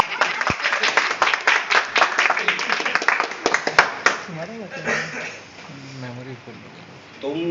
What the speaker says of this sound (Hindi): आप लोग ताली बजाइएगा